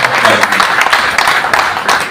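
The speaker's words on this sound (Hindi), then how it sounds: "उनके लिए भी आप जोरदार तालियां बजाइए" An audience at an Urdu-Hindi poetry evening in Moscow applauds steadily, dense clapping held at an even level throughout.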